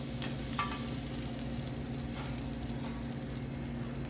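Filet mignon seasoned with soy and ginger sears in a hot pan, a steady dense sizzle with occasional louder pops and spatters, close and continuous throughout.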